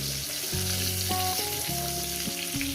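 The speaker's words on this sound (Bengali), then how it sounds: "আর এক দু মিনিট এক মিনিট ভাজবো" Pointed gourd and potato pieces fry in a pan with a steady, close sizzling hiss, accompanied by melodic background music throughout.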